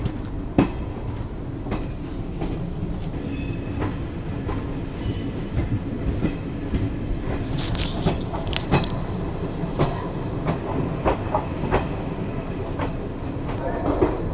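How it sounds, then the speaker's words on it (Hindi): Chetak Express train arriving at Ajmer Junction main platform on an Udaipur to Delhi run, a continuous rumble of rolling cars with rhythmic clickety-clack of wheels over rail joints and a brief high squeal. "यहाँ अपनी ट्रेन फाइनली पहुँच चुकी है थोड़े डीले के साथ 10 मिनट के"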